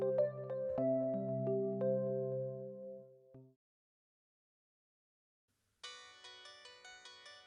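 A mobile phone ringtone plays a melodic tune for about three and a half seconds, stops into silence, then a second bright, rhythmic ring pattern starts up again, clear and close with no talking.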